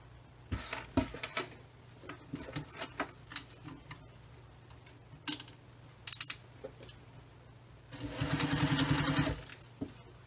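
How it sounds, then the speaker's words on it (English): A sewing machine stitches bag seams with a 3/8 inch seam allowance, giving short clicking, whirring bursts separated by pauses before a longer steady run of stitching near the end. "We are going to sew these along the top edge and along this bottom edge using a 3/8 of an inch seam allowance."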